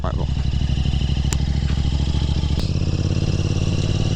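A Royal Enfield Interceptor 650 motorcycle rides a rough road through the Malnad hills between Gangavathi and Sagara. Its engine thrums steadily and loudly throughout, with a brief clatter and a jolt partway through.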